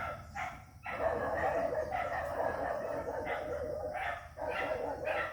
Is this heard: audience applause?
no